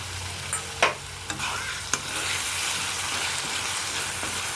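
Tomatoes and onions cook down in oil in a pan for an egg curry, with a steady sizzle that swells louder partway through and a few sharp spoon taps and scrapes early on, without speech.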